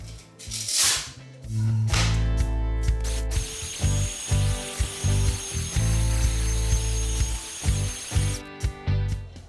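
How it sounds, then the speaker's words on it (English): An orbital sander works over a stained wooden kitchen worktop, a loud steady buzzing whir with repeated brief dips as the pad shifts and lifts, close by and without talk. "I've managed to get the orbital sander in there, and that's taking it off"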